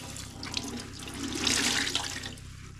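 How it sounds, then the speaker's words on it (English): Dyed cotton cloth being rinsed under a running tap into a sink, a steady splashing rush of water that swells louder midway before settling, with no talking. "I keep rinsing until my water runs clear."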